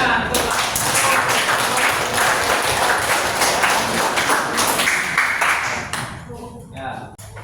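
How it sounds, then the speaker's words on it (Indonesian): A classroom of students bursting into applause, a dense crackling clatter of many hands with voices mixed in, dying away abruptly near the end. "Ya, tepuk tangan."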